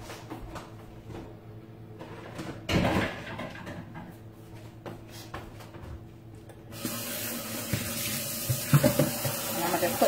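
Tap water runs into a bowl in a kitchen sink for cleaning hog maws, a steady rushing stream that swells louder partway through, with occasional clinks and handling noises close by.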